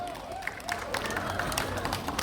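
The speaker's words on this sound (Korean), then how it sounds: "네, 박수 한번 주세요." An audience at an award ceremony during a 2024 senior citizens' festival claps steadily and fairly close by, a dense patter of hands with light crowd noise underneath.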